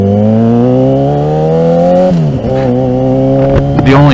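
Yamaha motorcycle engine fitted with an aftermarket silencer made for the XJ6, rising in a smooth loud rev for two seconds, dropping sharply, then blipping again with a few quick throttle stabs at close range.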